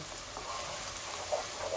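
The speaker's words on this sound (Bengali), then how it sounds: "এগুলাকে ভালো করে ভাজা করেছি যাতে এই মিটের মধ্যে কোনো ব্লাড না থাকে" Chicken pieces frying in oil in a large pot, a soft, quiet, continuous sizzle with faint stirring scrapes over its short span, no voices.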